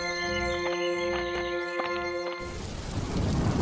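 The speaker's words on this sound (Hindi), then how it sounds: "बारिश और तूफान के कारण वो फंस गए।" A cartoon rain and thunderstorm effect for a Hindi village story: a steady, dense roar of heavy rain swells in after a few seconds of tonal background music.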